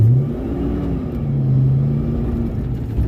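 A Fox body Mustang engine revs on a snowy, icy road as the car slides, a loud, steady mid-range drone that swells and dips across the stretch, heard alone without talk.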